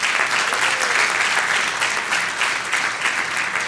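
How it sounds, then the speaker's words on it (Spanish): A church congregation applauds during a sermon, a dense, steady wash of many hands clapping together without a break, with no talking over it. "el cual te pido un aplauso"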